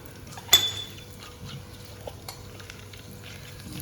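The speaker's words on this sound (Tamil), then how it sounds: "2 ஸ்பூன் அளவு நெய் ஊற்றிக்கலாம். இப்போ எடுத்து வச்ச பிரியாணி இலை, பட்டை, கிராம்பு எல்லாத்தையும் போட்டு தாளிச்சுக்கலாம்." Bay leaf, cinnamon and cloves temper in ghee in a cast iron pan, a soft ongoing sizzle with a sharp metallic clink near the start and a few lighter utensil taps.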